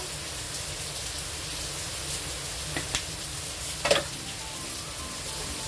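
Vegetables with sage and cumin sizzle steadily in a soup pot, a soft even frying hiss with a few faint scraping knocks of stirring.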